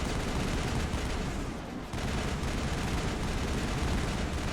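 Dense, continuous gunfire in the sci-fi shooter Mass Effect, a loud roar of overlapping shots and blasts that dips briefly midway, then resumes at full intensity to the end.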